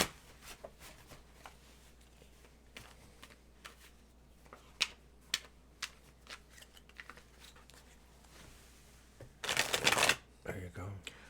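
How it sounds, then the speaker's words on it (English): A tarot card deck is shuffled in a burst of crisp riffling near the end, after scattered light clicks and handling noises, with faint talk around it. "I just wanted to give this a shuffle."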